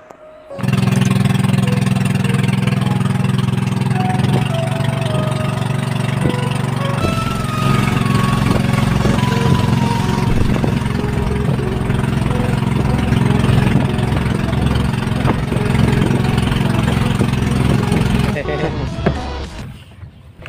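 A motorboat engine drones steadily and loudly throughout on a boat ride to a hot spring in Binangonan, Rizal, Philippines, a low continuous chugging that cuts out near the end, with voices talking over it.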